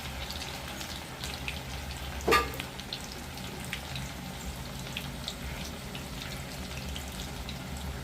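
Potato snacks frying in a pan of hot oil give off a steady, even sizzle and hiss throughout, broken once by a brief sharp clatter.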